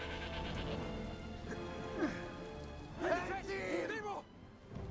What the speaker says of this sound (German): Und ich höre eine Ziege.